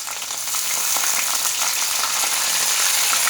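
Golden onions frying in a pan with garlic and ginger paste for aloo matar gobhi, a loud, dense, steady sizzle with crackling spits, close up and alone without voices.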